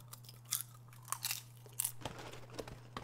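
Crunchy food being chewed close to the mic, a series of sharp crisp bites and crunches spread irregularly over a few seconds, with a steady low hum underneath and no talking.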